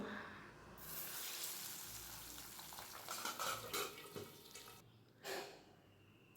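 Onion paste frying in leftover oil after cooking pabda fish, giving a steady broadband sizzle and hiss that runs through the clip, with a few brief louder bursts near the end and no talking.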